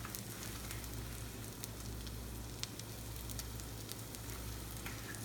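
Eggs with onions frying in oil, a continuous crackling sizzle with scattered small pops, fairly quiet and steady throughout, with no talking.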